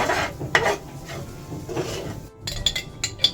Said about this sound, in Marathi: त्याच्यात आपण थोडासा रवा फ्राय करून घेऊया चांगला ब्राऊन होईपर्यंत रवा आपल्याला फ्राय करून घ्यायचा